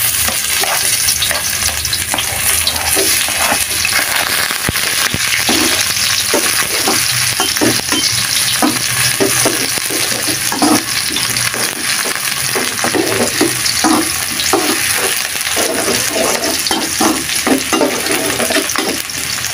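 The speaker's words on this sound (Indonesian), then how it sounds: "Kemudian kita tumis bawang merah dan bawang putih." Shallots and garlic sautéing in hot oil, a constant close sizzle with rhythmic scraping and stirring strokes from a spatula.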